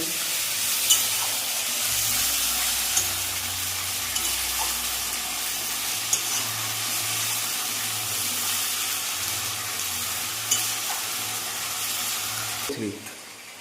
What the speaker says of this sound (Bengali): দিয়ে দেবো শুকনো লঙ্কা বাটা, 3 চামচ শুকনো লঙ্কা। ভালো করে কষিয়ে নেব।